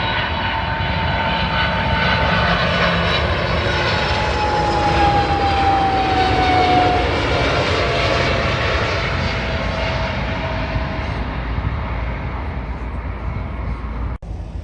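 Royal Jordanian Airbus A310 jet flying inbound to London Heathrow: a loud, steady engine roar sustained throughout, with a slowly falling whine as it passes close overhead, no talk.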